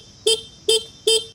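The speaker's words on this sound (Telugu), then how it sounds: "అండ్ హారన్ చూసుకోవచ్చు" A 2025 Suzuki Avenis 125 scooter horn sounds three short, evenly spaced bursts up close, each a bright, buzzy tone over quiet background.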